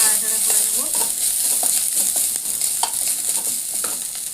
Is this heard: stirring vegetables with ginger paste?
yes